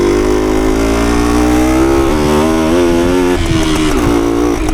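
A 1972 Suzuki TS185 motorcycle engine running close and loud, a buzzy two-stroke drone that rises and settles slightly in pitch as it revs, continuous throughout and with no talking.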